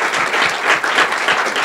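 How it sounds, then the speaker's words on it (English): A roomful of people at a public meeting on Bermuda's energy future claps steadily and fairly loudly, a dense, even wash of applause lasting throughout with no voices on top. "I think they should get a round of applause for that."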